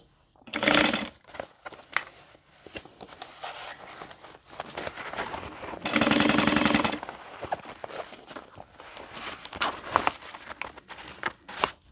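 A sewing machine runs in two loud bursts of rapid, even stitching while sewing a boxy bag, separated and followed by rustling fabric and handling noises.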